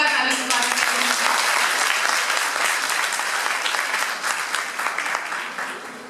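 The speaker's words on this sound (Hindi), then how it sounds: "जोरदार ताली से स्वागत करती हूँ" Dense, steady applause from an audience in an auditorium at a Hindi department event, sustained loudly for several seconds and tapering slightly toward the end.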